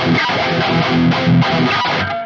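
An electric guitar with a cranked high-gain metal distortion tone plays chugging, palm-muted riffs, loud and dense throughout, with no voices.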